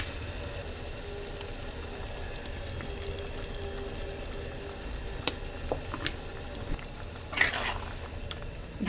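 Fried paneer is stirred into spinach for palak paneer, which hisses gently in a pan. A quiet, continuous sizzle carries scattered soft clicks and scrapes of the spoon, and there is no talk.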